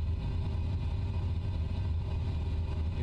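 A DC-3 taildragger's engine drones in a steady, loud, low hum with the throttle held in while slowing for landing in Microsoft Flight Simulator, with no speech.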